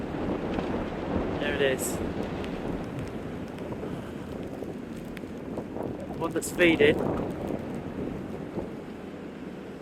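Gusty wind buffets the microphone with a steady broadband rush at Easedale Tarn, a mountain lake, as a person speaks briefly over it.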